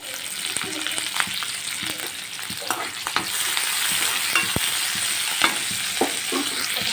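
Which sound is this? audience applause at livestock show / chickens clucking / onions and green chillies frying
onions and green chillies frying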